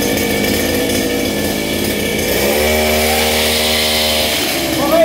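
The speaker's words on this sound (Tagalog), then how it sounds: "grass cutter Kawasaki TD40" A Kawasaki TD40 grass cutter engine runs close and loud with a buzzing two-stroke drone, dropping to a lower, steadier pitch partway through and then rising briefly at the end.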